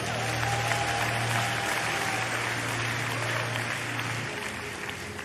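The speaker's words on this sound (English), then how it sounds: "I think you should give them a great round of applause." A large congregation at a church revival service gives a long, even round of applause, a thick continuous patter of many hands that holds steady and eases slightly toward the end over a low hum.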